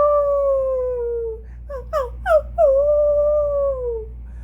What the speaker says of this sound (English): plaintive howls wailing through the night.